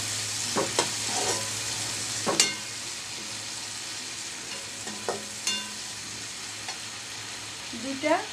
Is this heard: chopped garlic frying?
yes